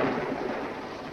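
A low rumble of thunder rolling through, broad and heavy at first and slowly fading, with a faint wash of rain beneath.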